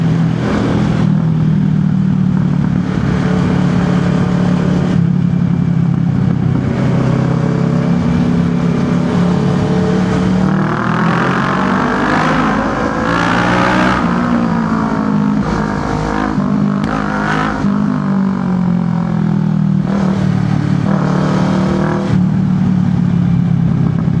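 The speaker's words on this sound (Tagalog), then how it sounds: "At ayun, panay ang pamumutok ng ating motor sa likod" A motorcycle engine runs loud and close throughout, its drone rising and falling with revs while repeated pops and backfires crackle from the rear exhaust, with no voices.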